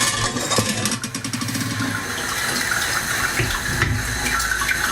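Hot brewing liquid drains steadily from a vessel during a home all-grain beer brew with Mosaic hops, a loud continuous gushing, splashing rush of water that fills the whole stretch without talk.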